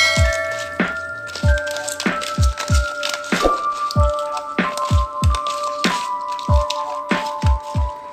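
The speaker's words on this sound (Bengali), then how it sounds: "এখন দিয়ে দিচ্ছি লবণ আর সামান্য হলুদ। নুন আর হলুদ মাখিয়ে আমি 15 মিনিট মাছটা রেখে দেবো।" Raw prawns, already coated in lemon juice, rubbed by hand with salt and a little turmeric. Repeated short wet squishing and crackling bursts come in a steady rhythm, close and moderately loud, over soft steady background music.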